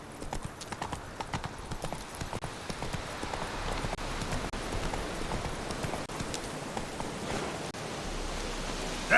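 Horse hooves clip-clop steadily on the ground in the Witcher 3 video game, a continuous rhythmic trot under a faint background hiss, with no talking.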